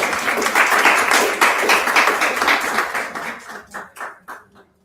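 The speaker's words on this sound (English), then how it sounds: "a round of applause for everyone today" Attendees at a women-in-tech meetup give a round of applause, dense clapping that thins into a few scattered, separate claps before fading out.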